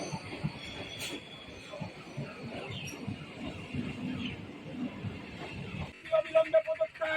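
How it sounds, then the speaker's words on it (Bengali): A Sealdah–Bongaon up local train pulls into Thakurnagar station, with a steady rumble of rail cars and wheel noise and a burst of squealing at the end, with crowd chatter around the platform. "শিয়ালদা থেকে ছেড়ে আসা বনগাঁমুখী আপ ট্রেন ঠাকুরনগর প্ল্যাটফর্মে ঢুকছে"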